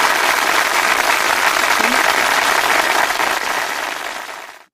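Applause sound effect played on a radio show, a dense steady wash of clapping from a crowd that holds evenly for several seconds, then fades away at the end.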